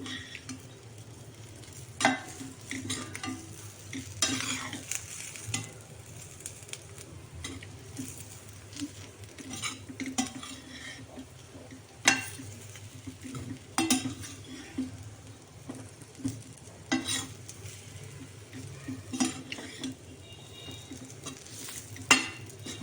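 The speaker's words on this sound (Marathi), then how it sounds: "शिल्लक राहिलेला मसाला पण आपण टाकून घेतलेला आहे त्याला आता व्यवस्थित परतून तेल सुटू द्यायचं आहे" Leftover masala sautéing in oil for stuffed brinjal, a low sizzle under repeated scraping and clattering of a spatula against the pan in irregular bursts, close and moderately quiet.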